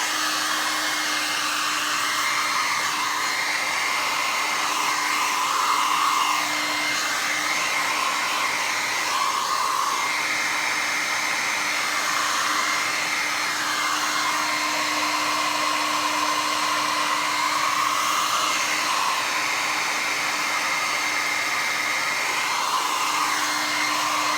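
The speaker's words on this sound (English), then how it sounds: "And blow dry this some more." A hair dryer blows continuously and close up for the whole stretch, drying craft postcard tags with an even, steady roar.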